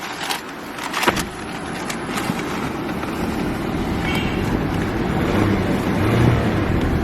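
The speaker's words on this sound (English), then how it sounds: "Let's give her a rev." Diesel engine of a 2015 Toyota Prado TX revving, a broad rumbling roar that builds steadily over several seconds, mixed with wind buffeting on the microphone and a few light clicks.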